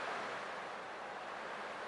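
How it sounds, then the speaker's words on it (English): Ocean waves in the video game Honkai: Star Rail, a steady broad wash of surf with no breaks, fairly soft and distant with no voices over it. "I can still clearly hear the sound of the waves."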